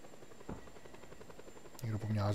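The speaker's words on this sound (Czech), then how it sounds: "Spadnul vrtulník." A helicopter in the Just Cause 2 video game, heard as a steady rotor chop throughout, with a heavier, louder rumbling burst near the end and no speech.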